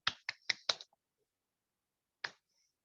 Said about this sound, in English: I will join this meeting by knocking this gavel 3 times